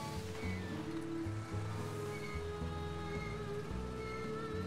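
Several boat engines drone steadily at sea in the Ylands survival sandbox game, a low continuous rumble layered with a washing, surf-like wash of water, loud and unbroken with no talk.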